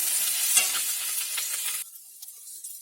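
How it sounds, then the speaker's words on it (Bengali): Garlic paste fries with reddened onions in oil, a dense close sizzle with stirring scrapes that suddenly drops to a thinner, quieter hiss partway through. "দেখুন বন্ধুরা, রসুনটি ভাজা হয়ে গিয়েছে।"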